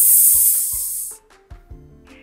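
A person imitates a snake with a long, loud, steady hiss lasting about a second, then trails off into a few softer breathy sounds and short voiced bits.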